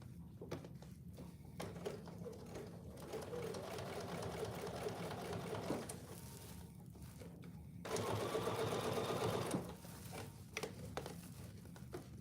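A sewing machine slowly stitches through a thick seam on oven mitts, its rapid mechanical rattle running in bursts with short pauses and a louder, faster run near the end, close and without talk.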